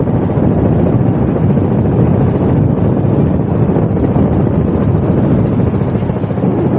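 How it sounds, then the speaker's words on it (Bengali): A steady, loud speedboat roar on the Meghna River mixed with wind buffeting the microphone, holding constant throughout. "যে স্পিড বোর্ড ওইটা স্পিড বোর্ড আসতেছে"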